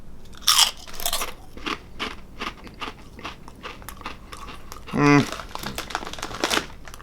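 Close crunching and chewing of UK Cheez-It cheese-seasoned crackers, with crinkly bites and a packet rustle, scattered across the clip alongside speech.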